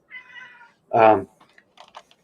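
An indoor cat meows up close to be let out, a drawn-out cry followed by a louder, stronger meow, then a few soft keyboard-like clicks in an otherwise quiet room.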